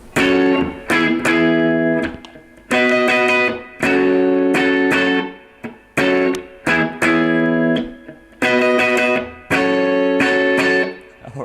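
An electric guitar strums the chorus of a song across five strings in rhythmic bursts of chords separated by brief gaps. It is loud, close and continuous, with no talking.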